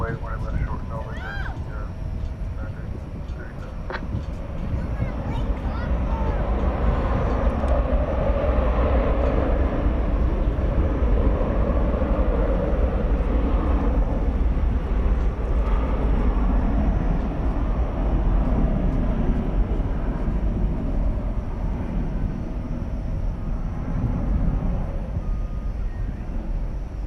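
A jet airliner rolls and climbs out on takeoff from runway 18 Left at DFW Airport at night, a loud, steady broadband engine roar that swells and holds throughout, with air traffic control radio talk running over it.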